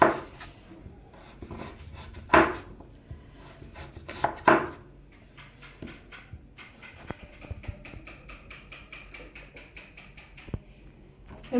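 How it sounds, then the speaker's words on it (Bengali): A knife finely chopping beetroot and carrot into thin strips on a board, crisp close taps that start out scattered and irregular, then settle into a fast, steady run of cuts with no talking. "বিট গাজর কুচানো হয়ে গেছে এইভাবে কুচিয়ে নেবেন সরু সরু করে"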